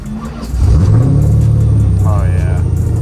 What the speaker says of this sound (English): we're in Jesse's LS Swap 240